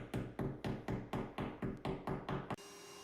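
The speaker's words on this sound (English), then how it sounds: "I used a small hammer to gently tap them in to make sure they are slided all the way through." A small hammer taps tiles into place during a tile installation, about ten evenly spaced, sharp knocks in quick succession, close and moderately loud, then stopping.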